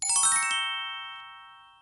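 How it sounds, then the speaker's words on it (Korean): A phone's incoming-call ringtone plays a bright chiming jingle of quick bell-like notes that then ring on and slowly fade, clear and alone with no voices. "지금 전화가 오고 있습니다"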